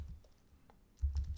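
Typing on a computer keyboard while writing Android code: sparse, faint keystrokes at first, then a close burst of quick clicks near the end, with no voices.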